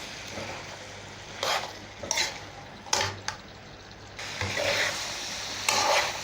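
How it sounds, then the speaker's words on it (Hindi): Black chickpeas and mashed tomatoes are stirred together in a pan, the spoon scraping in several loud bursts over a steady low sizzle, with no voices. "अब हम इसमें चने शामिल कर देंगे और अच्छी तरह से मिक्स कर लेंगे"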